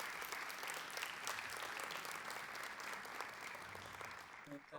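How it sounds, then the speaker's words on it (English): Sustained applause fills a conference hall as an audience honors journalists at the opening ceremony of the ARIJ 17th Annual Forum, steady dense clapping throughout with no pause. "we need to honor them and applaud for them."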